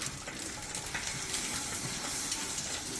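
Butter sizzles in a hot pan beside an omelette and bread toast, a steady, close hiss with faint crackle that holds evenly throughout.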